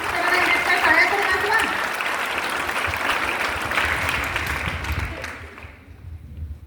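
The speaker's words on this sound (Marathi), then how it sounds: "जोरात टाळ्या ग प्रश्नांची" Loud, sustained hand clapping from an audience at a women's polytechnic college event in Latur, strong at first and thinning out toward the end, with a voice briefly heard over it early on.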